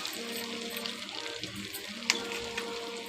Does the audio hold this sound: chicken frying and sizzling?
yes